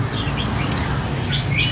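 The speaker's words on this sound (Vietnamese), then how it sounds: "Hai bầy chim 17 con mình thả vô đây rồi nè các bạn" Red-whiskered bulbuls being released into an aviary, with bright chirps scattered over a busy, rumbling background of fluttering wings and movement, no voices.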